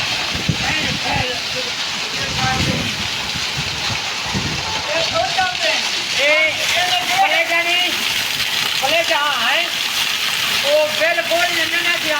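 Steady monsoon rain falls in a continuous broad wash, with people talking close by over it throughout.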